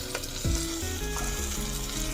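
Onions, ginger garlic paste and tomatoes sizzling in a pan for pav bhaji, a loud steady fry with scraping stirs and soft knocks as the ingredients are moved around.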